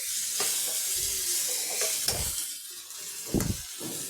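Onions and tomatoes sauté in a pan for a roadside-style salna, with a loud steady sizzle broken by several dull thumps of stirring, and no talking.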